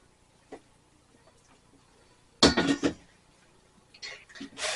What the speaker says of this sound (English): So we're gonna dump this cake mix in there.